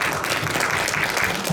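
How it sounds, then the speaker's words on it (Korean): An audience at the opening of a Busan forum on pedestrian mobility rights gives a steady burst of applause, close and continuous for under two seconds. "큰 박수 부탁드릴게요"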